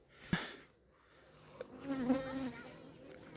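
Honeybees buzz at an outdoor apiary, a faint, wavering drone of several insects near and far, with a single sharp tap early on.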